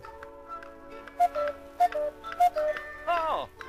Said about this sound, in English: Hear them ticking?